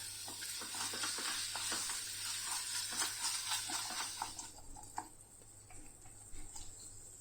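Ginger garlic paste sizzles and fries in a pan over high flame for a Kerala egg roast, with scraping stir strokes over a steady hiss; the sizzle thins out in the last couple of seconds.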